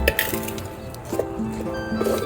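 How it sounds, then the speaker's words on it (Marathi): Soaked rice goes into a metal pot on a wood-fired stove, heard as a few clinks and scrapes of utensil against the pot with faint rustling, quiet and close with no talk. "मी 2 वाटी इथं तांदूळ स्वच्छ धुवून ठेवलेला होता भिजत, त्याच्यामध्ये तांदूळ घालून घेऊया।"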